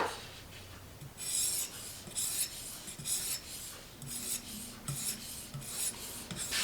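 A knife blade is deburred on a TSPROF Blitz guided sharpening system: quiet, rhythmic rasping strokes, about a dozen back-and-forth passes in steady succession, close and soft, with no talking.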